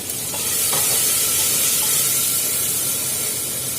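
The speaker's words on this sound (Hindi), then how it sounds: "प्याज मेरे भून चुके हैं, अब डाल दूंगी इसके अंदर मैं टमाटर" Chopped tomatoes tipped onto onions already fried in a cooking pot, producing a loud, steady hiss and sizzle with a few scraping stirs near the start, close up and without speech.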